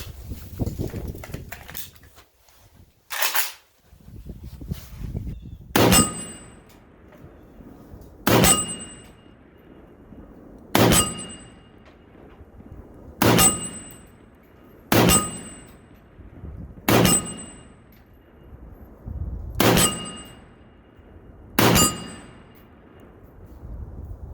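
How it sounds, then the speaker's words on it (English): Ten rifle shots from a PSA AK pistol striking a steel gong target at 50 yards, each sharp crack followed by a ringing metallic clang, spaced a few seconds apart and loud against a quiet range. "let's load up 10 shots and we'll bang up that steel gong"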